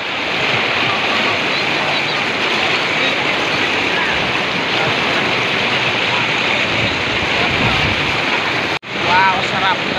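A wide, cold river flowing: a constant, broad rush of moving water heard close and loud throughout, with a brief dip near the end and faint voices mixed in.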